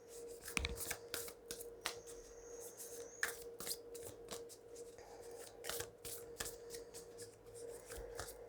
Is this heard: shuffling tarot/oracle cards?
yes